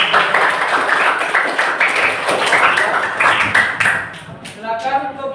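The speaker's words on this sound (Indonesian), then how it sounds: "Ya, tepuk tangannya." Classroom group clapping together after a Hindu prayer, a brisk, close round of many hands that fades out as a voice begins speaking.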